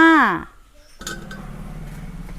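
Metal pots and vessels clink and clatter together as they are carried together after a brief voice, continuing as a busy rattle.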